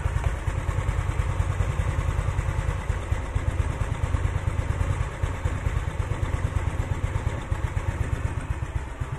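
Custom Honda Beat scooter with a carbureted engine fitted with a PE26 carburetor, running steadily near the microphone during tuning; a loud, continuous putter with a rapid, slightly uneven pulse, heard alone.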